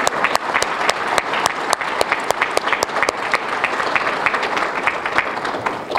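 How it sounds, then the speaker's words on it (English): Audience at an awards dinner applauding, dense continuous clapping from many hands filling the room at a steady, loud level. "Let's applaud that first."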